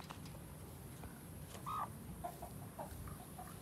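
Backyard coop with Sussex chickens and blue-egg laying hens, soft scattered clucks and one brief louder squawk over a quiet, faintly noisy outdoor background.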